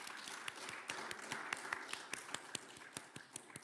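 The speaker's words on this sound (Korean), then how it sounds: "우리 격려의 박수." A church congregation claps in encouragement during a Sunday service: fairly faint, distinct hand claps in a loose, roughly steady rhythm, each crack sharp against a quiet room with no talking.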